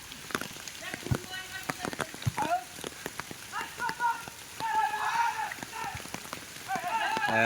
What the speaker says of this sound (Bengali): বৃষ্টির মধ্যে খেলা চলছে বৃষ্টি মাঠে জমে আছে